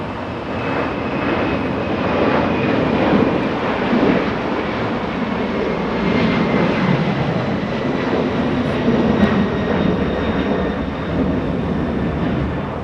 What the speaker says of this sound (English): A 15-year-old 767 getting a move on, lifting off